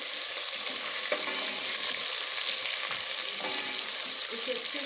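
Ginger-garlic paste fries in hot oil in a pan alongside browned ingredients, giving a steady, dense sizzle with occasional soft stirring scrapes, close and continuous.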